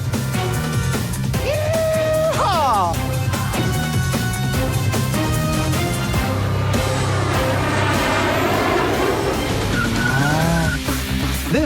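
A car drifting around a circuit mixing tight turns and technical sections, loud continuous engine roar with rising and falling tire squeals layered over it, sustained throughout with no talking.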